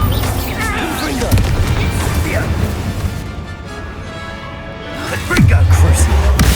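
Bombarda and Confringo spell explosions in the Hogwarts Legacy video game, heavy booms and crashing impacts erupting between spoken spell callouts, loud and close.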